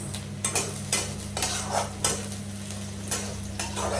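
Bhangon fish with garlic, onion and green chilli stirring and sizzling in a pan, with repeated scraping strokes over a steady frying hiss and a low background hum.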